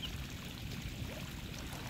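Water flowing into a large pond in Bangkok after overnight rain, a steady broad rushing and trickling wash that stays constant and fairly quiet, with no talk.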